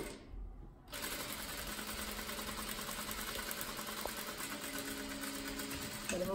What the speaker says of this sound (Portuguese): Coloco aqui na máquina bem no localzinho da minha margem de costura